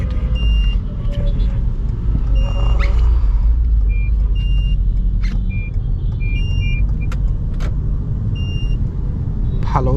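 A Toyota C-HR hums and rumbles steadily on the road through a U-turn, close and fairly loud, with a few short electronic beeps and clicks scattered over the engine and tyre noise.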